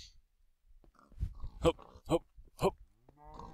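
Minecraft cows moo three times in quick succession, short nasal lowing calls spaced about half a second apart, with a voice speaking briefly before them and soft game sounds after.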